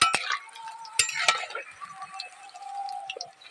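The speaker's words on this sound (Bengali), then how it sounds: "কচুর ভাজা হচ্ছে" Taro pieces crackle and sizzle in hot oil while a utensil scrapes and clicks against the pan a few times, close by and without talk.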